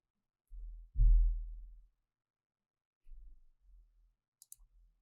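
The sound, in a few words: computer mouse clicking Finish in the installer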